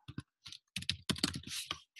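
Close, quick keystrokes on a computer keyboard as a coach ID and password are entered at a login screen, landing in short irregular bursts with brief pauses.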